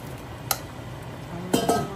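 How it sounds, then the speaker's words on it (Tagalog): Potatoes go into a simmering pot of pochero with a few sharp clinks of a metal utensil against the pot and soft stirring between, close and fairly quiet, with no talk. "So, I'll put the potato."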